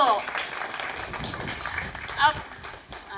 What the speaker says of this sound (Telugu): ఒకసారి చప్పట్లు కొడదాం